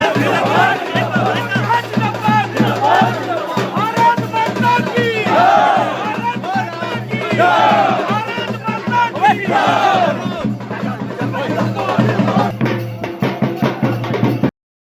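A crowd chants BJP slogans in unison at the Katigorah development centre, loud and sustained with rhythmic rising calls and shouts repeating throughout, voices massed close together.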